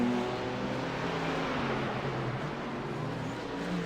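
A GT3 race car runs through the Nürburgring carousel with a loud, sustained engine drone and a steady roar and whine that hold evenly throughout, with no one talking.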